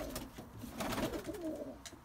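A pigeon coos softly in a loft, a faint low burbling call rising and falling across a couple of seconds over quiet background rustle.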